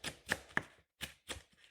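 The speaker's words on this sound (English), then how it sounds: "I'm taking a big bunch of it off and chopping that nice and fine" A knife chopping a big bunch of flat leaf parsley on a board, five or six crisp, close cuts in an uneven rhythm with no talking.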